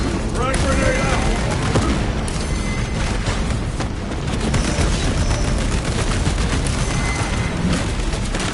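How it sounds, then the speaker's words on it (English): A frag grenade goes off in the Warhammer 40,000: Space Marine 2 video game, one detonation within a loud, dense battle of continuous gunfire and booms, with shouted voices over the din. "Frag grenade out!"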